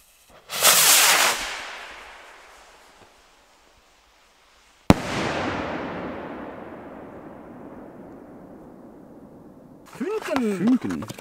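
Large firework rockets are set off outdoors at night: a rushing launch whoosh fades away, then a sharp bang bursts into a long crackling, decaying tail, followed by a brief whistling flurry.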